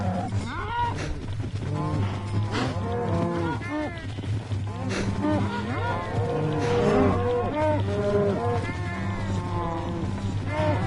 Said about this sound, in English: Start breeding up all these cows again.